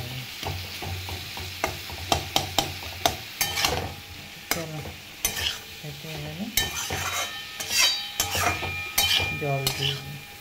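Tomato masala sautéed and stirred in a pan, with a steady close sizzle broken by repeated sharp scrapes and clinks of a utensil against the metal, while faint background sounds drift in and out.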